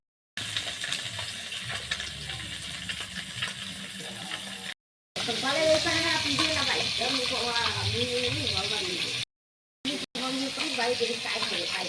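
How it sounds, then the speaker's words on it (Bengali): Cauliflower fries in hot oil in a pan, a steady sizzle running throughout with brief gaps, while someone talks over it. "মাছগুলো ভাজা করা হয়েছে, ফুলকপি ভাজা হওয়া হচ্ছে"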